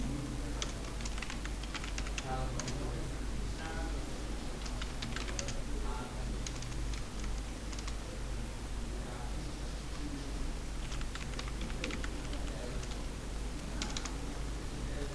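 Computer keyboard typing at a steady, continuous pace, clicky keystrokes in quick bursts over a constant background hiss, fairly close, with no clear talk.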